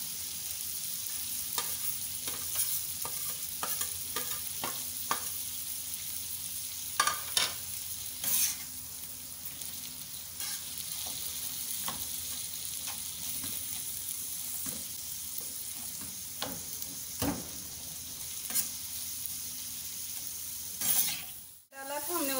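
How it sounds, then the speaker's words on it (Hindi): Minced meat frying with onions and green chillies on a tawa, a soft continuous sizzle broken by frequent scraping, stirring clicks from a spatula, fairly close and steady throughout. "डाला था हमने उसमें कीमा, प्याज फ्राई की हुई और हरी मिर्चें डाली हैं।"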